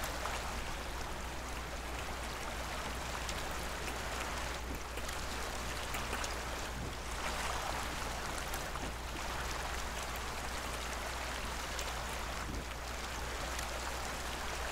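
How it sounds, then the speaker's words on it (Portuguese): Water ripples and laps continuously in The Isle Evrima survival game, a steady, even wash like a gentle stream with no talking. "Ondulação aqui na água."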